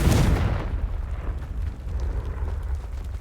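A Confringo fire spell bursting in Hogwarts Legacy: a loud booming explosion at the start that fades into a low rumbling tail and faint crackle.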